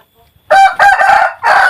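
A newly acquired rooster crows loudly and close up, one full cock-a-doodle-doo in broken phrases after a brief quiet moment.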